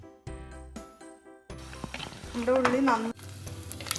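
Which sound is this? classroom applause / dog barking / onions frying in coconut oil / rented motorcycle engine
onions frying in coconut oil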